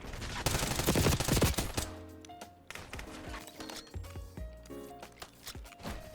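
Gunfire in a video game gunfight, loud dense burst of shots in the first two seconds, then sparser scattered shots and game effects trailing off.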